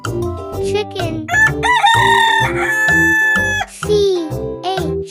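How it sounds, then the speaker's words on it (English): A rooster crows loudly in long drawn-out calls mixed with chicken clucking, all close and continuous with no talk over it. "chicken."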